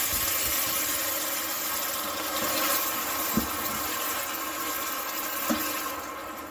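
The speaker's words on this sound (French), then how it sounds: "on baisse le feu et on va rajouter une tasse de bouillon" A cup of broth is poured into a pan of sautéed shallots over lowered heat for a Vietnamese shrimp soup, making a soft, continuous watery hiss with a couple of faint clicks.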